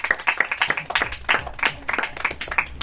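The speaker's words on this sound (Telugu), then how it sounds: "అందరూ క్లాప్స్." An audience claps at an event, a burst of many hands with uneven sharp slaps close by and fairly loud throughout, with no one speaking over it.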